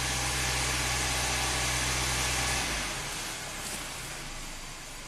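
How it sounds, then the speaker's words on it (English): A Hyundai car engine idles roughly close by, a loud, dense rumble with uneven low throbbing that drops in level and smooths out partway through, with no talking. "this engine runs rough"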